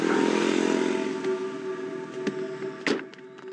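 A motorcycle-like vehicle engine runs steadily, then fades as it pulls away, with a couple of sharp clatters and a scrape near the end.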